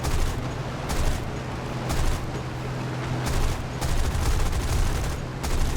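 Aircraft guns on a P-39N-0 fighter fire in War Thunder in repeated rapid bursts of about a second each, loud and close, separated by short pauses over a steady engine drone.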